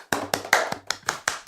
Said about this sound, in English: snobby golf clap